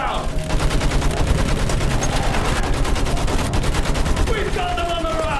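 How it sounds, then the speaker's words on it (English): Machine gun fire in a Battlefield war game: sustained rapid automatic bursts, loud and close, running nearly the whole stretch, with shouted voices briefly at the start and end. "Use that machine gun!"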